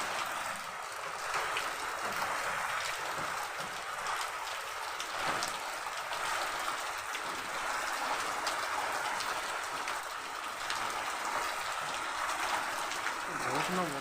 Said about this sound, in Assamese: এইফালে বৰষুণখনকে চাই আছে বৰষুণ দি থাকে